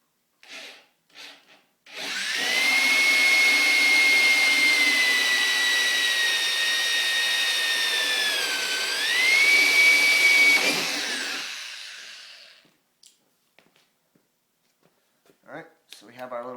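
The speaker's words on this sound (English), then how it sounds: "And then you'll put this in the pilot hole and you'll drill your hole out." A power drill opening up a pilot hole into a tow hook hole in an RHOplate gives a loud, steady whine for about ten seconds, dipping briefly in pitch under load, with short bits of talk before and after.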